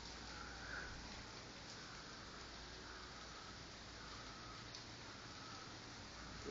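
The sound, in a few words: rain falling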